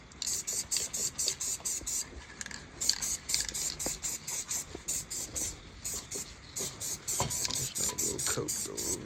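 Aerosol spray paint hisses in short repeated bursts over a model car body, each pass a quick even blast with brief gaps, close and fairly loud.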